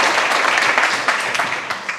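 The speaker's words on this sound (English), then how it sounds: "Let's give them a round of applause." An audience at the LaunchBox 2023 startup event applauds, giving dense, loud, sustained clapping from many hands throughout.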